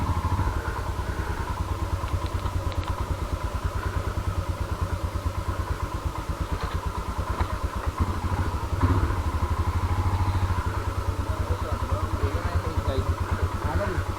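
A motorcycle descends a rocky downhill trail from the snowline toward McLeod Ganj, its engine chugging in a rapid steady pulse close by, with rattling clatter over stones and a brief louder surge midway.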